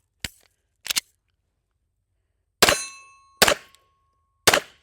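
Springfield Prodigy DS Comp pistol shots ring out one at a time, five sharp loud reports spaced irregularly, the later ones leaving a short metallic ring and decay between bursts of silence.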